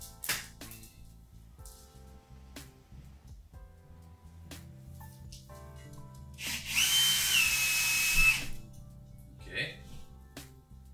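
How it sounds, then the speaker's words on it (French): Power drill running in one loud burst of about two seconds, boring holes during a home DIY decor job, surrounded by quieter handling noises and someone talking nearby. "j'ai envie de faire tous les trous comme ça, après je peux ranger la mèche"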